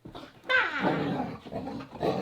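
A dog growls and grumbles while tugging on a toy during fetch-and-retrieve training, a close, continuous rumbling growl that rises sharply after a brief quieter start and carries on with short pauses.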